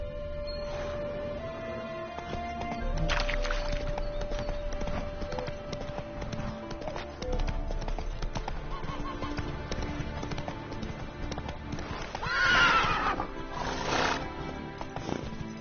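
Roach the horse in The Witcher 3 gallops with a busy run of hoofbeats, then gives a loud, close whinny near the end, with game sounds and faint voices underneath.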